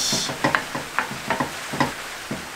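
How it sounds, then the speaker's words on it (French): Ground beef frying in a pan with onions and peppers, a steady sizzle broken by rhythmic scraping strokes of a utensil stirring the meat, close up and without speech. "on ajoute la viande hachée et on la fait cuire aussi à son tour, on lui fait perdre sa petite couleur rosée"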